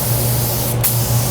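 A spray gun applies Cerakote ceramic coating, making a steady, close, loud hiss with one brief break partway through.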